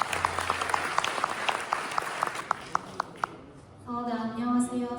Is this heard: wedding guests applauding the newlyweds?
yes